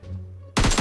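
An M4 rifle fires in the battle royale video game PUBG as a sudden burst of rapid, loud automatic shots, following a low steady hum of game ambience.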